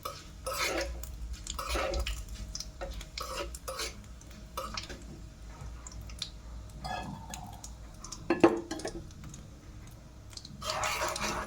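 A spoon stirs fenugreek and ajwain as they roast in ghee in a pan, making scattered light clinks and scrapes against the metal at close range, with no talking.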